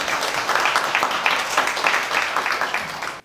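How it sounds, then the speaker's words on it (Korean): A conference audience gives a warm round of applause to welcome a speaker, with dense steady clapping that cuts off abruptly at the end. "여러분 따뜻한 박수로 정철 교수님을 맞이하겠습니다."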